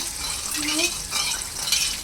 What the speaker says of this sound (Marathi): ते साखरेचं पाणी या फोडणीमध्येच टाकायचं आहे